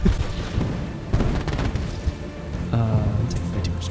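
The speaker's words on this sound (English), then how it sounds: "Never mind, my homing cannons shot the dude instead." Homing cannons fire in a pirate-themed action video game, a run of dull booming blasts and bursts stacked over busy game noise, with a heavier thump near the end and talk continuing throughout.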